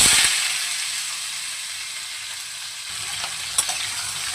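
Pumpkin fries in hot oil tempered with black cumin and dried chilli, a bright steady sizzle and hiss close by, with a brief clatter near the end and no talking.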